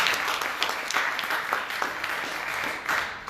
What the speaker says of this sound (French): c'est Kenny Watts. Je vous demande de l'applaudir.